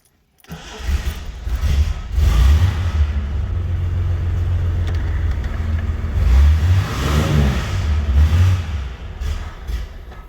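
A 1978 Reliant Scimitar GTE with a 3.0 V6 Essex engine, started after sitting, turns over and catches, then settles into a loud, low, rumbling idle with a slight miss and a few swells in revs.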